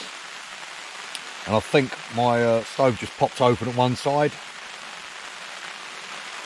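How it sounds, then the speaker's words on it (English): Steady rain patters on a tent at a wet wild camp in bad weather in the UK, a constant close hiss running throughout while someone speaks briefly over it. "the rain is in."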